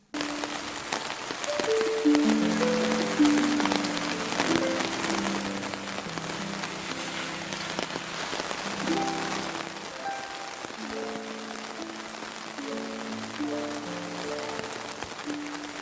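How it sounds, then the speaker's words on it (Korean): Steady rain falls on a surface as a continuous hiss of drops, while soft, slow keyboard-like notes play quietly underneath throughout, with no speech. "빗소리 한번 들어볼까요?"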